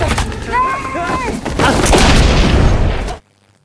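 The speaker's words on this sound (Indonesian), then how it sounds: "Ed mengalami luka tembakan sedangkan Granvik tewas akibat ledakan granat." Film soundtrack of a wartime battle on sea ice: a grenade explosion sets off a sustained loud, roaring blast with crackling debris, mixed with shouted voices and whistling tones, then an abrupt cut to silence.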